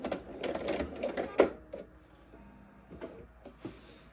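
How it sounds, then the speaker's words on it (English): A sewing machine runs a half-inch seam, a burst of quick mechanical stitching at the start, then brief intermittent clicks and short runs as it backstitches, fairly close and moderately loud with no talk. "So I'm just sewing at the half an inch seam allowance down to that point, and then we will backstitch."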